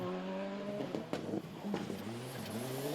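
A Citroën C3 Rally2 rally car drives past on a stage, its engine note rising and falling through gear changes, close and steady, with brief sharp pops along the way.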